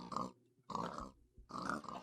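Three short grunting oinks from pigs in Minecraft come one after another at an even pace, each a brief close snort with quiet gaps between.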